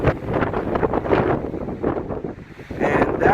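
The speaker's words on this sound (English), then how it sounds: "the wind is picking up" Steady wind buffets the microphone on a day hike at Mueller State Park, Colorado, overlooking a lake, a loud continuous rumbling roar that dips briefly near the middle before surging again.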